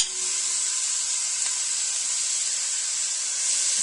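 Garlic, ginger, onion and carrot sautéing in oil give a steady, close hiss and sizzle that holds evenly throughout, with no voices.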